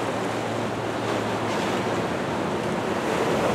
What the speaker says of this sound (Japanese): 海はすごい波だな